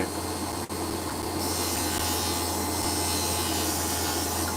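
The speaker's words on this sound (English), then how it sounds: "this is an ordinary desk sander. I think it's an Ozito" An Ozito desk sander grinds opal with a steady, loud broadband whir, a continuous abrasive rush that holds constant throughout with only a tiny dip near the start.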